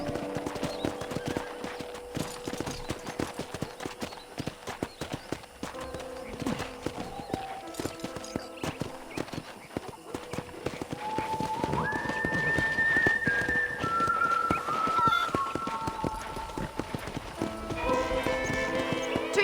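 Steady clip-clop of horse hooves at a walking rhythm on a ranch in the game Red Dead Redemption, with a game-like musical melody rising over it partway through.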